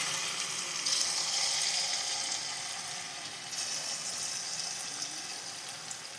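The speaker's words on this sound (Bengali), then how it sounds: "তেলটা সামান্য গরম হয়ে আসলে পরে পকোড়াগুলোকে এভাবে দিয়ে দিতে হবে তেলের মধ্যে" Ash gourd pakoras fry in hot oil in a wok, giving a steady, even hiss and sizzle that carries on for several seconds with no talk.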